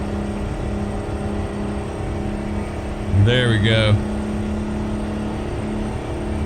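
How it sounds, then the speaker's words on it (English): A semi truck engine in American Truck Simulator drones steadily and loudly through the whole stretch, holding a constant pitch under a brief spoken remark in the middle. "it's gonna sound like the engine's about ready to fly apart"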